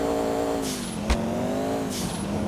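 A video game car engine in GTA 4 drones steadily at high revs, its pitch wavering slightly up and down, with a brief sharp knock partway through.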